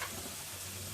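Coconut pieces and green chillies fry in a pan for poha chivda, giving a steady, close sizzle of hot oil that holds at an even level throughout.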